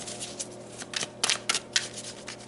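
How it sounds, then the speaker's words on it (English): Tarot cards shuffled and pulled from the deck during a reading, giving soft papery riffles and several sharper flicks and slaps, close and fairly quiet, with no talking. "Okay, let's pull some more cards here."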